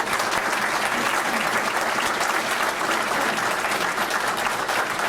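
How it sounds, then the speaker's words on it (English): An audience at a county paramedic promotion ceremony claps for the new promotees, giving dense, even, sustained applause that fills the room for several seconds without a break. "let's give them all a round of applause"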